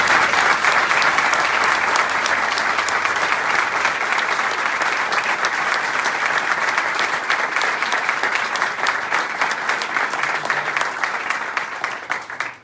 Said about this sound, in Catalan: Us mereixeu un fort aplaudiment que aquesta seu és gràcies a vosaltres.